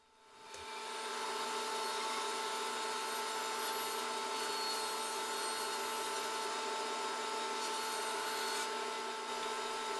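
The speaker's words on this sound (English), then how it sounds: "I joint and then I go to the bandsaw to rip them in half" A bandsaw rips 2x4 boards lengthwise into halves for balusters in a woodshop, a steady, loud, continuous whine with a fixed pitch that holds without a break.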